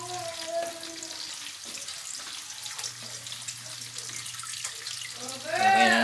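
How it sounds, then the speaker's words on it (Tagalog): Food frying in a pan gives a soft, continuous sizzle with light scraping, heard close. A voice briefly rises near the end. "Ating prinito. Malapit na rin maluto."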